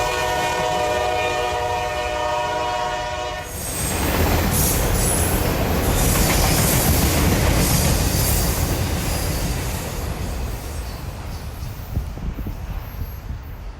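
A train passing by close, opening with a long sustained horn blast that cuts off, then a loud broad roar and rumble of cars rolling past with wheel squeal, fading slightly toward the end.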